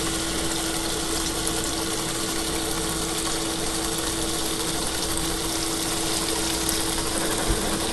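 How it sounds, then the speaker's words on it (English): Tap water poured over peeled shrimp in a container, a steady gushing stream running without a break, accompanied by a constant mechanical hum. "I'm going to cover this with water."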